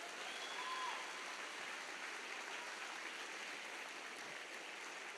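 A church congregation applauds in a steady, dense wash of clapping that holds at an even, moderate level throughout, sounding somewhat distant and diffuse like a large room full of hands.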